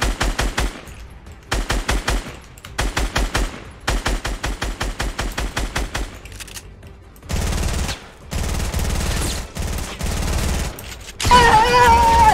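Rapid automatic gunfire in the video game Fortnite, several dense bursts of sharp shots in a row, loud and close, followed by heavier continuous firing and a brief other game sound at the end.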